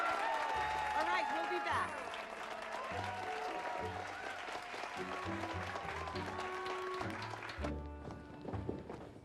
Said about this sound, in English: One more round of applause for these two kids.